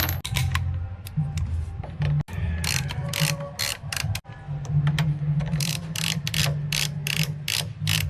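A ratchet wrench tightens the new brake pad on a Honda Beat v3 scooter, producing rapid close metallic clicking in bursts with brief pauses, loud and clear with no talking.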